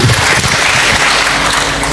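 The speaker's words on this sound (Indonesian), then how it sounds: "Ya tepuk tangan untuk kita semuanya." Short burst of dense audience applause at a talk show, a loud continuous wash of clapping lasting under two seconds with no talking.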